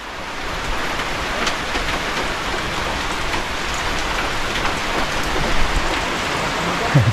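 Heavy rain pours down in a constant dense hiss, drops drumming on nearby surfaces with a few louder splats, steady and close with no talking.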